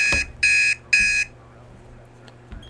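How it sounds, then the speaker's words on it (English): An alarm clock sounds a reminder as a few short, bright electronic beep bursts in quick succession, near and loud, then stops, leaving faint room noise and a couple of soft clicks. "That's my alarm reminding me to pay attention to the time."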